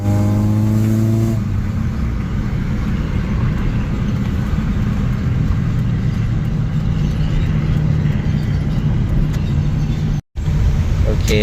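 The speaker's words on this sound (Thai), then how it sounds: "นี่ก็เปิดกระจกหน้าต่างไว้หมดแล้วนะฮะเพื่อให้ได้ยินเสียงเครื่อง" A Toyota Soluna fitted with an aftermarket ECU box drives with its windows down, its engine droning loudly and steadily as it revs and pulls, close and continuous for the whole stretch with no talking over it.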